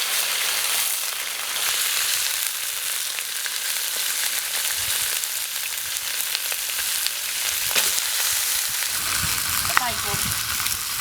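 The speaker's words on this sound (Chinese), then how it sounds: "再把肉下进去煎" Pork belly fries in oil in a wok, giving a steady, close sizzle throughout with a few brief clinks near the end.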